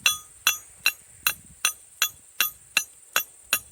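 Steady metallic strikes of a hammer driving a hand-forged tool into the soil, about ten evenly spaced ringing clinks, close and alone.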